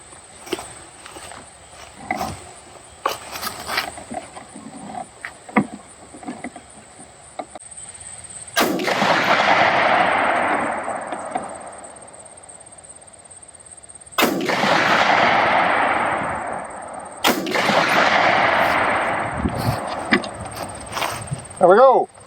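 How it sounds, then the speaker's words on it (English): Three quick shots from a semi-automatic hunting rifle at a ranch range during a sight-in before hunting season, each a loud, sharp crack with a long echoing tail, the last two close together, after quieter handling clicks. "Now I have a semi-automatic, so it's very easy for me. I'll just make 3 shots."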